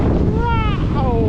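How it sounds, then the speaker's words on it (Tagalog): Strong wind roars over the microphone on a mountain road with a scenic overlook, making a loud, steady buffeting rush throughout. "Grabe lakas ng hangin"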